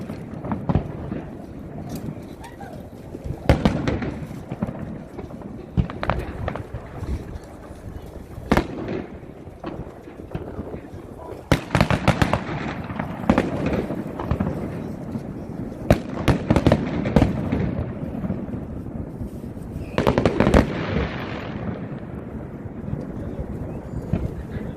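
Saturday night fireworks in Australia, with repeated booming bursts and crackling volleys at irregular intervals over steady outdoor wind noise, loud and fairly close.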